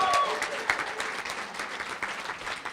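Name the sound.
audience applause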